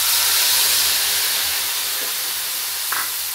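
Mustard and poppy seed paste hits a hot pan already holding nigella seeds while cooking pointed gourd, giving a loud, steady broadband hiss that fades slightly, with a small clink near the end.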